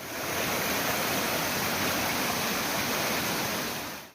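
Small streams and waterfalls run through a monsoon forest in Valsad district, Gujarat, making a continuous, loud, even rush of water that stays steady from start to finish with no voices.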